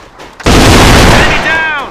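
Grenade going off in a first-person shooter, one abrupt, very loud blast that rings out for over a second before fading, with ringing tones in the tail.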